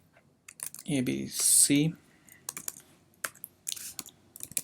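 Keys tapped on a computer keyboard while typing code, a few scattered clicks at close range following a short spoken phrase.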